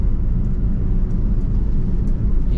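Small-engine 2019 Toyota Calya holding a steady mid-range drone near 3000 RPM from inside the cabin, loud and continuous with a low rumble and no break across the stretch.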